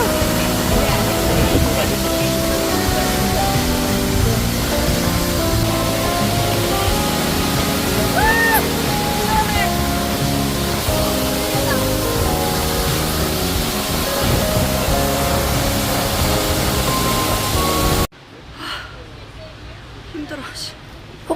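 Steady, loud rush of a waterfall on Jeju Island roars continuously, then cuts abruptly to a quieter scene near the end.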